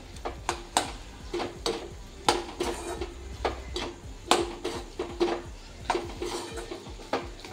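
Bottle gourd sabji being stirred with crushed peanut powder in a metal pan, a spoon scraping and clinking against the pan in a steady irregular rhythm of close, sharp taps and scrapes.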